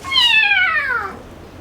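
A cat gives one loud, close meow in a bathroom, a clear falling cry that tapers off over about a second, with no other sound around it.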